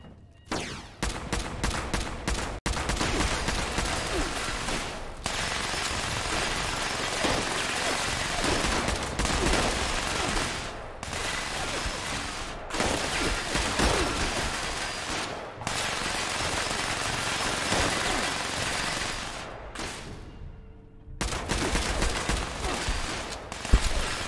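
Rapid automatic gunfire in Fallout 76, long dense bursts of shots broken by short pauses, loud and close, with a few quicker single shots at the start.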